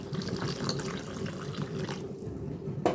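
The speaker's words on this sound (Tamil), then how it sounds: "இந்த குழம்புக்கு தேவையான அளவு தண்ணி சேர்த்துக்கலாம்" Water pours and splashes steadily into a pot of Tamil mango vathal kuzhambu curry for a few seconds, quiet and close, with a slight clink at the end.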